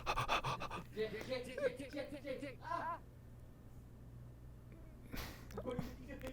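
A man imitates a dog with loud, heavy panting breaths, rapid rhythmic puffs at the start and again near the end, with talking in between.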